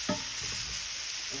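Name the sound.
frying food in a pan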